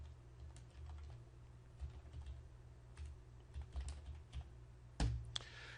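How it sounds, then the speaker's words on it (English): Fingers type a message on a computer keyboard, a quiet run of irregular key clicks and taps close by, with a sharper cluster of strokes near the end. "I'm going to go ahead and type my message in."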